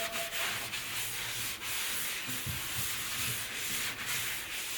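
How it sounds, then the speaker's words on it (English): Steady rasping of sandpaper rubbed back and forth over a drywall ceiling patch, continuous and close with a soft rhythmic scrape and no talking. "So once you've sanded and everything's nice and smooth, clean off any of that excess dust."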